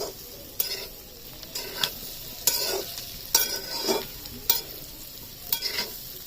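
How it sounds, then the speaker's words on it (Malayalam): A spoon scrapes and stirs beef liver fry with masala in a pan, making repeated close scraping strokes over a soft, steady sizzle. "അതെല്ലാം കൂടെ നല്ലോണം ഒന്ന് മിക്സ് ചെയ്ത് ഇളക്കി കൊടുക്കുക."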